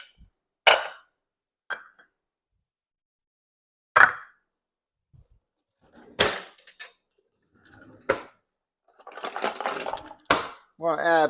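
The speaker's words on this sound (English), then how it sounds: "So first, I'm going to add 4 onions." Four normal-size white onions drop one by one into a chili pot, making several separate clunks and clattery thuds with quiet gaps between them, followed by denser scraping and rattling toward the end.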